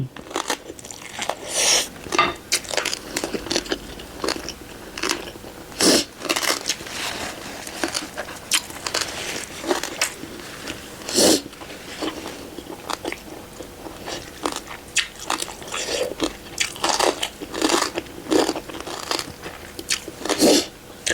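Crispy fried pork, baked and then deep-fried, crunches loudly and close up with repeated sharp bites and steady chewing, a fast irregular crackle running the whole time with no talking.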